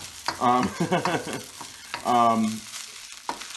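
Rice sizzles in a pan while a utensil stirs and scrapes through it in short bursts.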